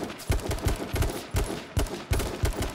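Rapid gunfire in the battle royale game H1Z1, a fast automatic burst of loud, close shots repeating in tight clusters with short gaps throughout.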